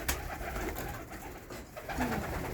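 Ornamental pigeons coo softly at a breeder's loft while feeding, a brief low call standing out above a faint rustling background.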